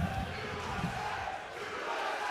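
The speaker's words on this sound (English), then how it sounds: "Crowd's definitely giving him love." Crowd noise at a live MMA fight in Pittsburgh, a steady roar of cheering spectators filling the arena, loud and continuous without a break.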